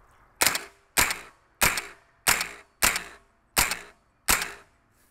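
Seven evenly spaced suppressed gunshots at a home-built shooting range, each a sharp, close, fairly loud crack with a short decay, fired at a steady rhythm of about one every 0.6 to 0.7 seconds.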